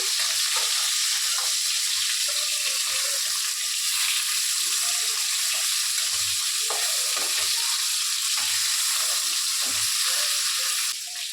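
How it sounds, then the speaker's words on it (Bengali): Silver carp sizzles as it fries in hot oil, a dense, continuous crackle filling the whole stretch at close range, with occasional soft knocks and scrapes from the pan and no talk. "এবার মাছটা ভেজে নেব।"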